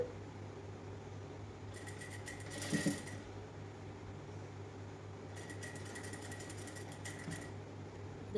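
An electric sewing machine stitching a side-tie nighty frock runs in two short bursts of fast, steady needle whirring, faint and close, over a constant low room hum.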